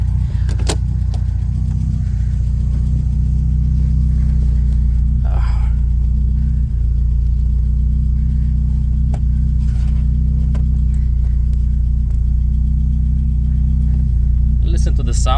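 A Ford Escort XR3i engine runs steadily at idle with a deep, even rumble close by, while voices speak over it.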